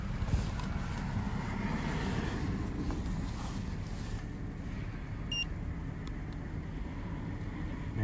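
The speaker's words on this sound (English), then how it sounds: "Go ahead and start it up." A Toyota Highlander 4WD with a check engine light and high mileage idles steadily after starting, a low continuous engine drone with light wind noise over the microphone and no talking.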